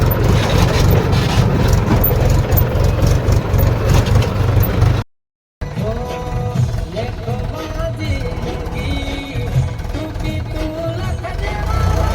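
Loud, steady rumble of a tractor engine idling nearby during soil loading, briefly cutting out then resuming, with people talking over it.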